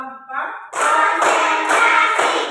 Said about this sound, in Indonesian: Tepuk 1 sampai 5 ya.